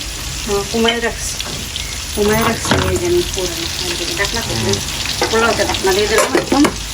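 Potatoes frying in a pan on a stove make a steady sizzle and stirring noise, while people talk loudly over it almost throughout.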